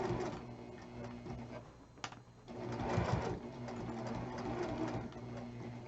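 A sewing machine stitching a pillow runs at a slow, steady pace, its motor whirring with a rapid mechanical chatter, close and moderately quiet, with one brief pause and a sharper clunk near the middle.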